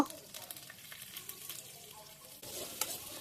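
Onions, green chillies and curry leaves frying in oil for a spicy chicken leg curry, a soft steady sizzle with stirring scrapes, quiet and close, jumping louder near the end.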